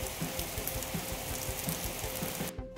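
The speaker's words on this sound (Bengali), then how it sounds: "দেখো কিরকম বৃষ্টি নেমে গেল।" Rain falling at an outdoor temple grounds, a dense, steady patter of drops hitting surfaces close by, continuous and fairly loud before cutting off abruptly at the end.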